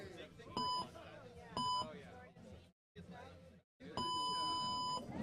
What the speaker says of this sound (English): So you have to wait for that fourth beep every time, just like in a track and field race.